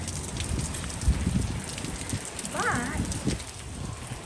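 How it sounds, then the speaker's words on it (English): Steady rain falling outdoors on a rainy day, a broad continuous hiss with scattered drop impacts and low thumps, while a person speaks briefly over it. "It is a rainy day today"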